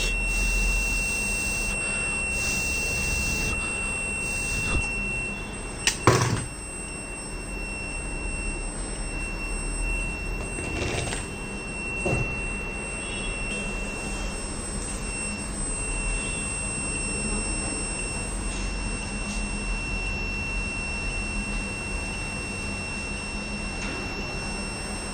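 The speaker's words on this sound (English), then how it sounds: "you will get the buzzer and the fan will get switched on" A greenhouse environmental control robot sounds a steady high-pitched buzzer tone through several seconds, with a fan whirring continuously underneath and a few clicks and knocks.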